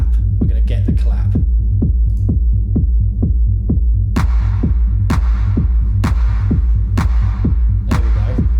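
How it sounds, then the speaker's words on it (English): A techno clap sample with reverb hits in a steady pattern over a throbbing, pulsing kick beat, and each sharp clap trails off in an echoing tail. "That echo you can hear is reverb"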